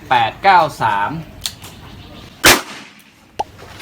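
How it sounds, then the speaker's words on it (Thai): One sharp, loud crack from a .22 LR revolver comes after someone speaks, followed by a brief faint click; speech opens the clip. "เดี๋ยวจะยิงแบบซิงเกิลกันนัดแรก"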